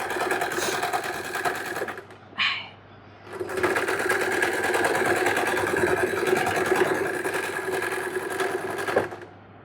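A sewing machine stitches in a steady, rapid mechanical whir close by, pausing briefly near the start before running on continuously to the end.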